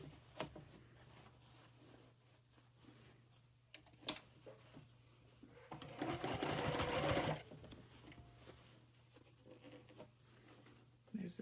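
A sewing machine runs in one steady burst of fast stitching along a seam on a clutch purse, set between quieter handling noises and soft rustling in an otherwise hushed room.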